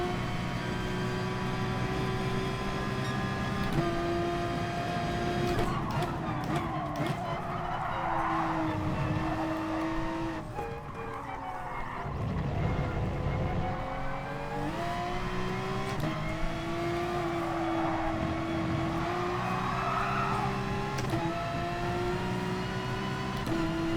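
Race car engine in Gran Turismo Sport rising and falling in pitch, with tyre skidding as the car spins out and recovers; steady and loud throughout, no talk.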